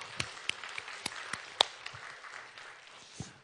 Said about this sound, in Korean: 혹여 오늘 이 자리에 누군가에게 하나님의 성령이 임한 줄 믿고 우리 박수 한번 칠까요?